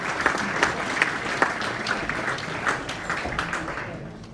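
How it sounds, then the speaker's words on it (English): A crowd applauds at a National Hunt breeders' awards evening in 2022. The clapping is a dense, steady wash that carries evenly through the whole stretch. "A round of applause for Claire"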